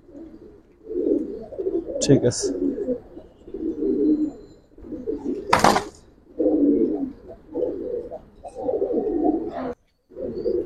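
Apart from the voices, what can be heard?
silver Giribaz pigeon cooing in a cage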